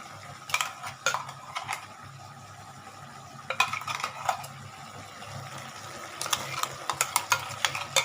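Poppy seed paste is stirred into a ridge gourd curry with coconut milk in a pan, giving quiet scraping and clinking utensil strokes in short bursts over a soft background hiss.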